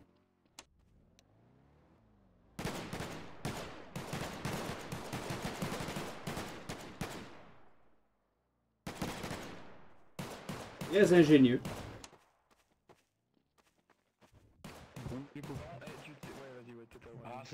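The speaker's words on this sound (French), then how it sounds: "Ah, c'est coup de feu là, voyons." Gunfire in Garry's Mod on a French roleplay server: dense bursts of rapid shots in two stretches, then a sharp loud crack, with short gaps of quiet and a voice speaking briefly near the end.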